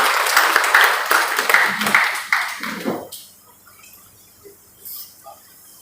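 Audience at a Premchand Jayanti program at a college in Buxar clapping to welcome the chief guest, dense applause that thins into a few last claps and stops, followed by faint room noise.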